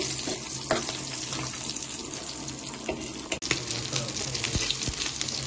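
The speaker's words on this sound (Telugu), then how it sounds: "ఫిష్ కూడా దగ్గరకు వచ్చేసి ఫ్రై అయినాయి ఇక్కడ పచ్చిమిర్చి కూడా ఫ్రై అయితే" Fish and green chilies frying in oil, a steady hiss and crackle with scattered sharp pops and a few clatters of a utensil, fairly faint and close.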